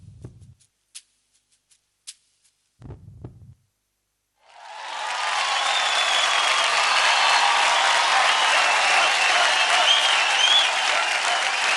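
Audience applause after a dance performance on a televised dance competition stage, loud and sustained for about seven seconds, rising in after a few brief scattered sounds and a pause.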